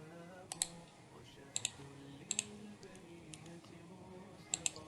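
Crisp computer mouse clicks while web pages are being edited, arriving singly and in quick pairs at irregular intervals over a low background hum, close and distinct.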